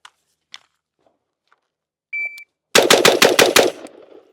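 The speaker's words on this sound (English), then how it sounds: "First shots of the day." A Colt 727 clone carbine fires at an outdoor range: a faint beep and a timer tone, then a fast string of about six loud, close gunshots in quick succession.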